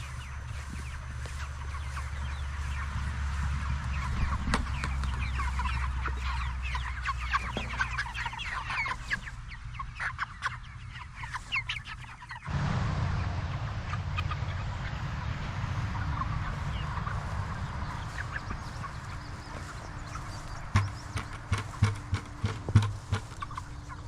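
Several chickens cluck and squawk close by, with busy overlapping calls and occasional louder bursts against a low background rumble.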